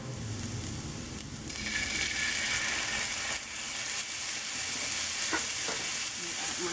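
Garlic sizzles loudly in a pan with meat and onions as chili beans cook, a steady close hiss of frying that swells after a brief stir and continues unbroken, with occasional clicks from the utensil.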